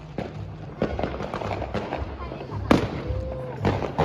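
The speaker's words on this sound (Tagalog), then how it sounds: "Ang dami nagpaputok!" New Year's Eve fireworks bang outside in Germany, several sharp explosions at irregular intervals, one louder close blast, with people cheering and talking between them.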